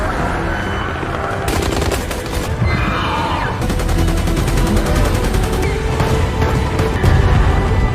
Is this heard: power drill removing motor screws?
no